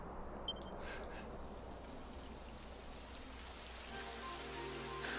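Steady rain in the video game Dragon Quest XI patters on surfaces, a soft continuous hiss with occasional distinct drops, fairly quiet and with no voices.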